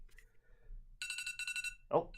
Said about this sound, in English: That's my alarm I set.